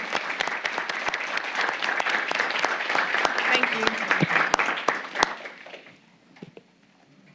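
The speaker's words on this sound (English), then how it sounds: "So at this time, let's give them all an applause." Applause fills a city council meeting chamber, a dense burst of clapping from the audience that fades out after about five seconds, followed by a brief spoken thanks.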